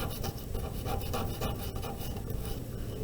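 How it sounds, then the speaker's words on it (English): A popsicle stick being sanded with a small piece of sandpaper, a steady close rasping rub that continues without pause for a few seconds, with no talk. "If you have a little bit of sandpaper, say, oh, it's a little rough, Mr. White"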